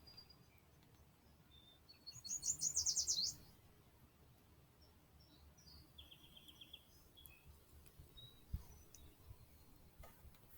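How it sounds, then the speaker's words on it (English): Parakeets chirp outdoors in a short, bright burst of rapid tweets partway through, followed by fainter scattered calls against a quiet background. "And you can hear a little tweet, tweet, tweet behind me if you listen."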